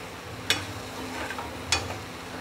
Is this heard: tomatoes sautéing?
yes